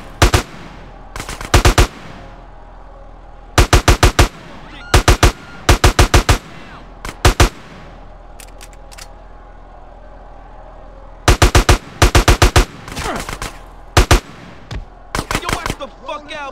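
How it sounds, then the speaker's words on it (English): Bursts of automatic gunfire from Grand Theft Auto: San Andreas, loud close rattling volleys repeated in clusters with short pauses between, alone without talk. "A gun."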